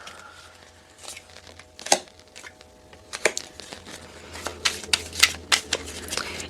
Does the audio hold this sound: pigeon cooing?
no